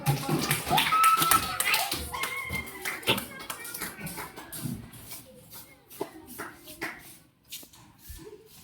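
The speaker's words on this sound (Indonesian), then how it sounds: "kalau sudah tepuk tangan dulu" A short burst of hand clapping from a class of students after a presentation, with scattered taps and shuffling noises and some background chatter.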